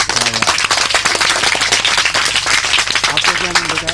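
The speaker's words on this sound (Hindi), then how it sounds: "तालियां मारो, तालियां।" Children and adults clapping together at an outdoor gathering with Pakistan's Prime Minister, a dense burst of hand claps lasting throughout with a voice talking over it.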